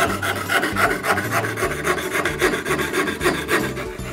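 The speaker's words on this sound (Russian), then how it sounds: "Поворачивать лобзик нужно на одном месте." A hand fretsaw rasps back and forth through a small wooden board, a close, steady run of quick scratchy strokes at an even rhythm, alone with no talk.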